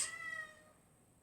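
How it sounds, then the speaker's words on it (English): A house cat gives a single faint meow in a quiet room, a short rising call that tails off, followed by a brief soft noise at the end. "sorry if you can hear a cat meowing."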